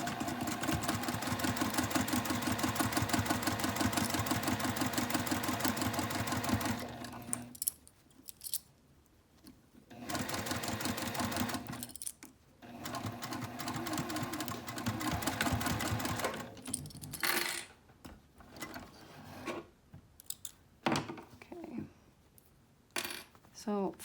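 A sewing machine stitches a fabric sling, first running in a long steady whir, then in shorter bursts with stops and backstitches, close and fairly quiet.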